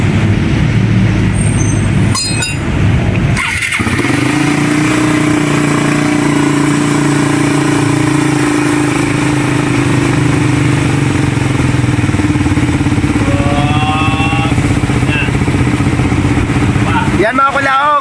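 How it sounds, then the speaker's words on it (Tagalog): A refreshed second-generation motorcycle engine starts after a few sharp clatters, then idles steadily and loudly up close, with people talking over it. "naandar itong motor ni boss"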